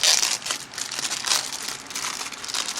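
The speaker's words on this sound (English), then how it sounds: "Sorry about the bag noise, folks." Plastic bag crinkling up close, a steady rustle of crackling with brief louder crunches, no voices.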